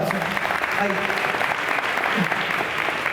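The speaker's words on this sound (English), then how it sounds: "Can we get a round of applause for the Hub?" Applause from the audience at a summer academy closing ceremony, a continuous, fairly loud wash of clapping filling the room, with some voices mixed in underneath.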